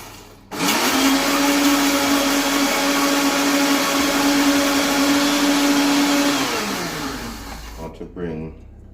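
A countertop blender whirs loudly and steadily for about seven seconds, blending egg, black pepper and salt as the first step of homemade mayonnaise, then winds down and stops.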